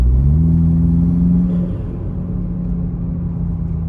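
A Toyota Supra 2.0 fitted with an aFe Power Takeda exhaust drones loudly as it accelerates, then the engine note drops and settles into a lower, steady hum, heard from inside the car.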